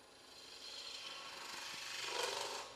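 Wood turning on a lathe with a 3/8 spindle gouge, a soft continuous rasping cut that swells slightly toward the end, close and without talk.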